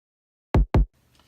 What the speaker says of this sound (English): I'll play the original sound of this top kick